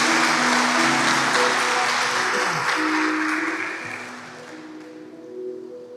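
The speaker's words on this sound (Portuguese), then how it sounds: "Dê um aplauso para Jesus pela palavra de Deus" Church congregation applauding for Jesus, a loud, dense wash of clapping that fills the room and slowly fades over several seconds, with a few voices mixed in.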